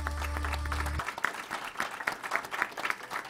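Audience applause breaks out at a solidarity rally for the Palestinian people, dense and steady clapping starting after a brief low tonal hum and continuing to the end.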